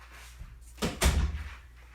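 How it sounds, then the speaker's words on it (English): An indoor door is pushed shut at home, giving a couple of close thuds with a short rattle and settling noise, then a low room hum. No one speaks. "Hold on, I gotta close the door."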